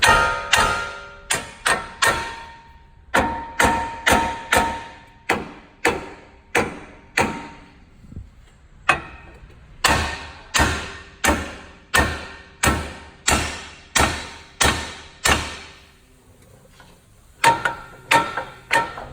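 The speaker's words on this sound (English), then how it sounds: "Next, use a hammer to break everything apart." Sharp metallic hammer blows ring out one after another, about twenty strikes in an irregular rhythm with brief pauses, close and loud, breaking apart suspension parts on a Ram 1500 truck.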